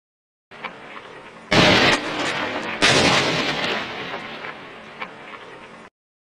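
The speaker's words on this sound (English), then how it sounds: "The projectile impacted at the corner of the building." An airsoft grenade launcher projectile strikes a building corner with two heavy, booming bursts a second apart, followed by a fading rumbling rush of debris and echo.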